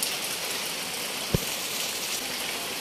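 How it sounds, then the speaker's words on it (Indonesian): Steady rain falls in an even, hissing wash close by, with one brief low thump partway through and no voices. "Udane koyone awet ngerecih."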